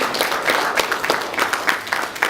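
A conference audience in India claps, a dense run of many hands applauding at close range, steady and moderately loud across the short burst.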